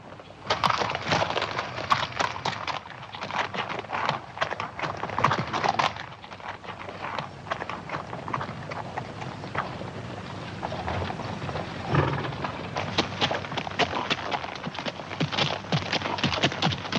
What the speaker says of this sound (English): Let's get down off these horses and talk some.